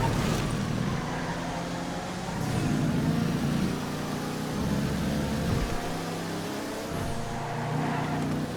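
A GB 200 car being driven in GTA FiveM during a race lap, its engine droning steadily with small rises and dips in pitch as it accelerates and shifts, continuous and fairly loud.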